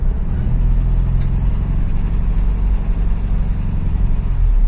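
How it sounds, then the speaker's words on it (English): A Toyota 22RE engine idling after a cold start, giving a loud, steady, low rumbling drone close by with a slight surge, continuous and with no talking. "even though it's cold, first impressions are it's got a lot better throttle response, higher idle,"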